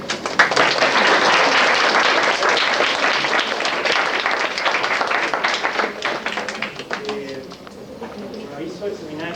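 Audience applause closing a talk at a history seminar, dense clapping that starts strong and gradually thins over several seconds, with voices talking beneath it as it fades.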